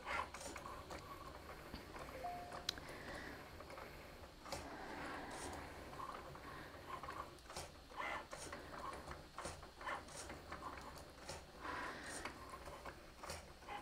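A Cricut Maker cutting paper with its blade, giving a steady mechanical whir with faint rhythmic clicks and carriage movements that run the whole time at a moderate, fairly quiet level, with no voices.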